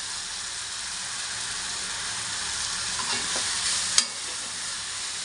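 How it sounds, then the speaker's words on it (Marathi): Spices, garam masala and red chili powder sizzle steadily in hot oil in a pan, a close continuous frying hiss with a few soft stirring scrapes and a brief clink near the end. "याला फ्राय होऊ द्यायचं एकदम मस्त."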